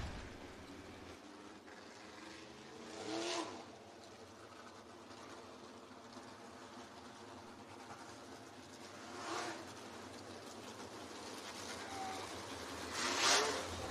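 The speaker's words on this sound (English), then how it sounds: "Getting ready to roll here in the 3rd and final heat race for the USCS Sprint Cars" USCS sprint cars roll around the Southern Raceway speedway in Milton, Florida before a heat race, a faint, steady engine drone with a few passes swelling briefly louder, heard from a distance.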